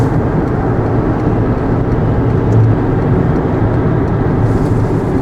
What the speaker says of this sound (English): I think we should go somewhere and stop so that the car engine's not making noise